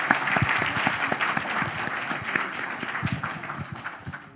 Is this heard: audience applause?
yes